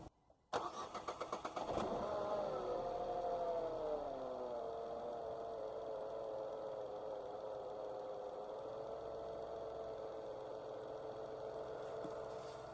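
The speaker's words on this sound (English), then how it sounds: "The engine starts. everything runs smoothly." A Dacia Renault 0.9 Turbo petrol engine with fresh NGK Laser Iridium spark plugs cranks briefly, catches and settles into a steady, smooth idle, its revs sagging from an initial flare to an even hum that runs on alone.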